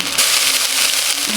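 Ginger, garlic, onion and chili being ground into a paste, a steady whirring grind that runs without pause.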